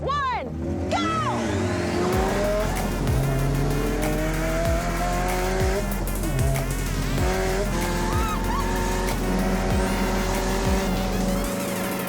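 A Ford Roadster hot rod with hybrid modifications launches in a drag race, its engine roaring loud and continuous with rising, shifting revs, tire squeal and skidding under a voice talking over it.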